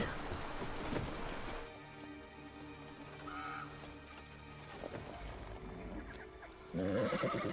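A horse whinnies amid sounds from the video game The Witcher 3: Blood and Wine, with clip-clopping hooves and rustling effects, louder shuffling near the end.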